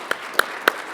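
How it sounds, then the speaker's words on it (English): A leadership panel audience gives four sharp, evenly spaced claps over a quiet, sparse patter, moderately faint and without speech. "how about a round of applause for our distinguished panel?"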